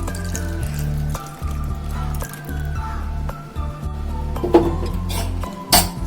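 Reserved milk is poured into cooled paneer kheer. A steady liquid pour and drips run close and fairly loud, broken by a few clinks of a vessel against the pot.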